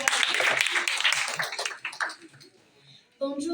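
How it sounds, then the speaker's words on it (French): An audience at a school French presentation claps for a student presenter, a brief burst of applause that fades out before a voice begins speaking. "Applaudissez pour elle."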